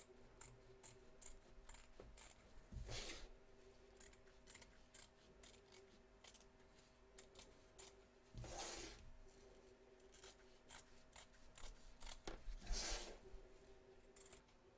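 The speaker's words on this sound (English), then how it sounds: "So turn your hoop over and cut away, taking care not to cut your stitches." Scissors snip away excess fabric around stitches on an embroidery hoop, giving three distinct cutting bursts spaced several seconds apart over quiet rustling and handling.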